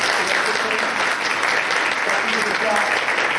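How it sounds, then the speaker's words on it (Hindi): Church congregation applauding during a Sunday service as a child is welcomed, steady dense clapping filling the room throughout, with voices faintly mixed in. "आप सब भी तालियां बजाकर"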